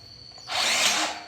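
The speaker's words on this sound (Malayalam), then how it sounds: "അപ്പം സ്ക്രൂ ചെയ്യാനായിട്ട് നമുക്ക് ഈ ഡ്രിൽ ഉപയോഗിക്കാം" A power drill drives screws into a low-cost door frame built without a welding machine, a faint hum swelling into a loud, steady whine about halfway through that holds to the end.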